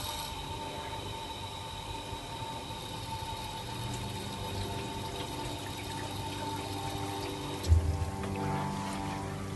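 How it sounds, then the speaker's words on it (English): Water running from a sink spigot inside an RV, a quiet steady flow with a low hum beneath it and a brief louder knock near the end. "let me run the spigot that this goes to"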